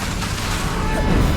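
A blasting curse striking its target in the video game Hogwarts Legacy, a short loud crashing impact blended into steady rumbling game noise.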